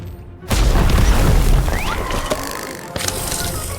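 A Harry Potter video game bomb spell blast, a sudden loud booming explosion that erupts and rumbles before trailing off into crackling debris, followed by a second, fainter burst.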